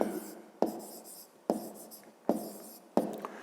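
Pen strokes scratch across paper during a fifth-grade math exercise, four sharp onsets each followed by a fading scrape, close and fairly quiet with no talking.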